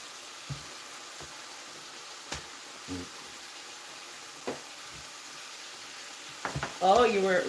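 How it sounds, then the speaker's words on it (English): Food frying in a pan gives a faint, steady sizzle with scattered soft pops and crackles. It grows louder and busier in the last second, where a voice briefly comes in. "Oh, I love the sound of that sizzle."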